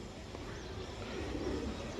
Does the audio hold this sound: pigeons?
yes